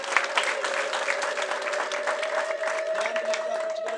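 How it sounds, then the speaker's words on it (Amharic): A church congregation claps together in sustained, dense applause, with a steady held musical tone running underneath throughout. "አጨብጭቡ ለእግዚአብሔር ክብር ይሁን"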